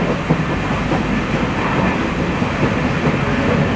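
Pamban Express passenger train from Rameswaram to Tambaram rolls along with a steady, loud rumble and faint clickety-clack of wheels over rail joints, heard from on board, with no voices.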